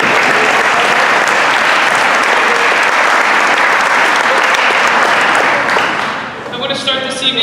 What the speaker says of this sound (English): We give everybody one more round of applause.